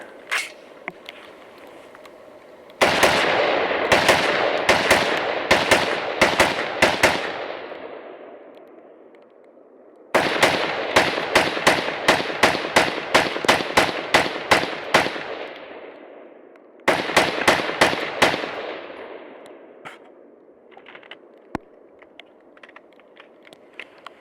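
A Noveske rifle being fired through magazines in a torture test outdoors: three long strings of rapid, loud, closely spaced shots, each separated by a short pause, with no voices.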